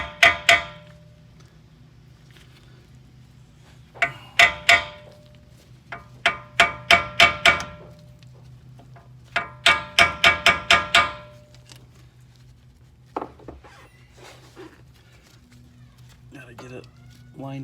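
Brake parts are tapped into place on a 2006 Mercedes CLS500, with sharp close metallic hammer taps in quick bursts of three to six, separated by pauses, then a few lighter knocks.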